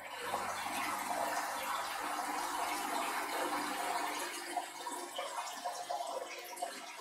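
Oxygen fed through an ordinary air diffuser into an aquarium fish-egg incubator makes a continuous close bubbling and watery fizz, steady throughout with no talk.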